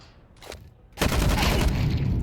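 AUG rifle fire in a Counter-Strike match, a faint short report followed by a loud, sustained crackling burst of gunfire and game noise.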